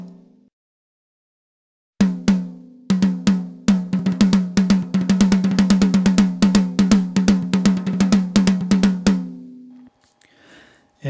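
Drum kit recorded through an AKG C535 microphone, sparse hits that build into a rapid roll of sharp strokes with a resonant tone, close and loud, then stopping into near silence.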